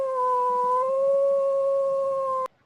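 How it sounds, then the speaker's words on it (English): A dog howls in one long, sustained, steady tone close by, holding for over two seconds before cutting off abruptly, with no talking. "The dog's howling."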